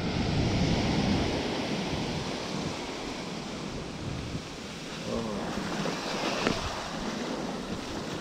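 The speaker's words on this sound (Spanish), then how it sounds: "Grande esa ola." A big ocean wave breaks and washes up as a broad, roaring surf rush. Wind buffets the microphone throughout.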